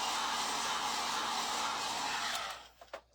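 A hair dryer blows steadily on fresh paint for a craft butterfly, a constant close whooshing roar that cuts off near the end, leaving a few faint clicks and handling noises.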